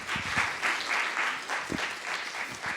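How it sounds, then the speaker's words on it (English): An audience at a civic engagement panel event breaks into steady applause, a dense, sustained patter of many hands clapping at moderate distance. "I'd like to give everyone a round of applause for helping us pull this together."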